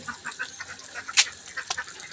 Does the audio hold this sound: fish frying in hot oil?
no